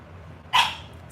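A puppy gives a single sharp, close bark indoors, a short loud yip rising out of quiet room tone.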